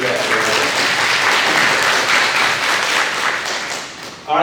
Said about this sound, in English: We owe you a clap, so let's just do that.